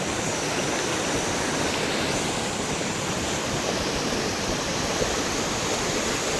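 Water gushes out of a water tank in a steady, broadband rushing roar, constant and fairly close, with outdoor air noise blending in and no talking.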